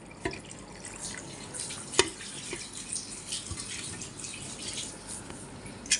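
Water trickles and drips in a home kitchen while cooking, a steady splashing stream with a few sharper drops, close and moderately quiet with no talk.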